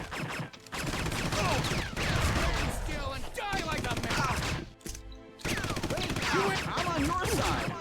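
Rapid gunfire in the Red Faction shooter, loud sustained bursts of automatic shots crackling over several seconds with a brief pause near the middle, while someone talks intermittently.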